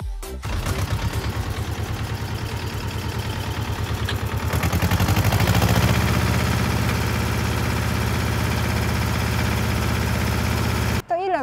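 The diesel engine of a Ursus C-330 tractor idles steadily with a low, rumbling, even chug that grows a bit louder midway, close and continuous.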